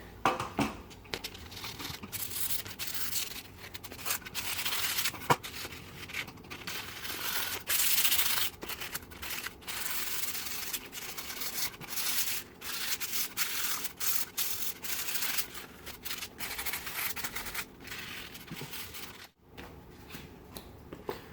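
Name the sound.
rubbing painted wood sign with steel wool to distress it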